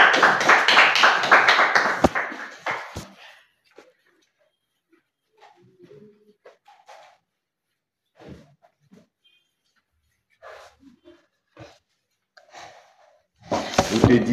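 A church congregation applauding: loud, dense clapping at the opening fades out within a few seconds, followed by scattered faint sounds and quiet, then a fresh burst of applause swells at the very end.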